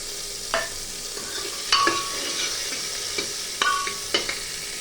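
Onions fry in a pan on top of chopped tomato, with a continuous close hiss broken by a few sharp utensil scrapes and taps, and no talking.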